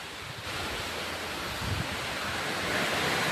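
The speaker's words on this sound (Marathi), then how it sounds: "जगार पण सुटलाय." Heavy rain driven by strong wind roars steadily outdoors, a dense close hiss with gusty buffeting on the microphone and no speech.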